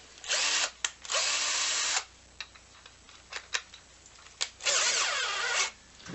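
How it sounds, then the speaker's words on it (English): A power drill whirs in three bursts, two short ones early and a longer one near the end, with clicks and tool handling between them, close by. "I'll drill the larger hole first here."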